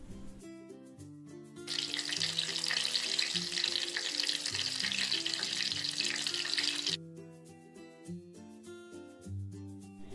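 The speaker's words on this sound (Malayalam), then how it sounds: "മാവിൽ മുക്കി പൊരിക്കുക" Omelette pieces dipped in batter hit hot oil and deep fry as bajji, a loud bright hiss lasting about five seconds between quieter stretches of music-like tones.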